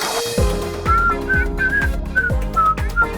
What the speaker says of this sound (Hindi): लड़कियों को सीटी नहीं बजाना चाहिए।